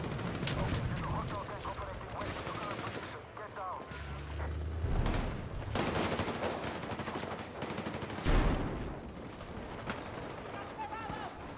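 Gunfire during a firefight in Battlefield 6, bursts of rapid automatic shots and single cracks scattered across the clip, with a louder blast near the end, mixed with ambient battle noise.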